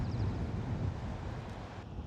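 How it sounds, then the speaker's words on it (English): Steady wind buffeting and rumbling across the microphone, a broad low roar with no voices, constant throughout. "It's quite windy"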